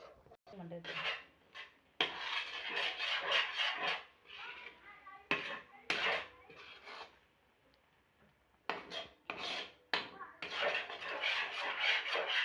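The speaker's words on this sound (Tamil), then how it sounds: "கை விடாமல் கலக்கிக்கிட்டே இருக்கணும்." A spoon stirring thickening red banana malt in a pan, repeated rasping scrapes and rubs in bursts separated by short quiet gaps, close and fairly faint.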